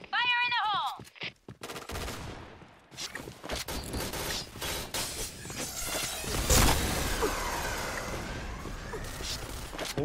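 Shotgun blasts and other gunfire ring out in a first-person shooter video game. Sharp reports come close together at the start, then a dense, continuous clatter of shots and mechanical noise follows, loud and busy.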